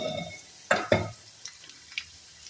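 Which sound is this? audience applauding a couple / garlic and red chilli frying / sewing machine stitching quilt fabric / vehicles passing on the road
garlic and red chilli frying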